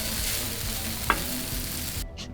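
Potato hash with jalapeños and onion frying on a Blackstone griddle, a steady soft sizzle throughout with a brief scrape near the middle and no talking.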